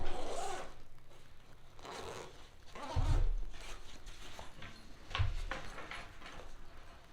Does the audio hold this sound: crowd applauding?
no